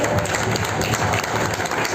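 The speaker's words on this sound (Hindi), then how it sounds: "मैं चाहूंगा जोरदार तालियां डीसी कौशल जी के लिए, मेहता जी के लिए और भारती जी के लिए" Loud, dense audience applause fills a meeting hall at a fort in Himachal Pradesh, a continuous crowd clapping with no pauses, close and full throughout.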